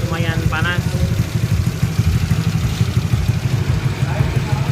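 A Honda Beat 150cc scooter engine with a CLD aftermarket exhaust, running with a close, pulsing idle and an even, throbbing rhythm; a person speaks briefly near the start.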